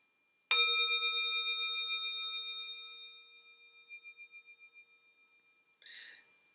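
A singing bowl-style singing bell is set ringing by a circular motion, giving a single sustained, pure ringing tone with steady overtones that slowly fades over several seconds, with a faint brief shuffle at the end.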